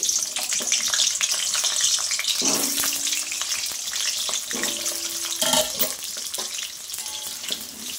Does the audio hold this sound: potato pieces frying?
yes